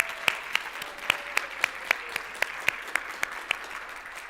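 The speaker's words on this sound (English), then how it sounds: "So let's give everyone an applause." A church congregation at a Sunday celebration service claps in a thin, regular rhythm, about a dozen sharp, fairly close claps over a few seconds with no voices.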